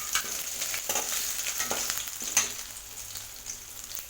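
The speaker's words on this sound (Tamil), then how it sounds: "நல்லா வதக்கிக்கலாம்" Food sautéing in a pan for lemon rice, a steady close sizzle with occasional soft scrapes and stirs throughout.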